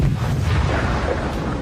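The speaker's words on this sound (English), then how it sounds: "Once HIMARS received the coordinates, it fired." A HIMARS rocket launcher fires at a camouflaged Russian TOS thermobaric rocket system among trees, a loud sustained roaring blast that holds steady and then slowly tails off.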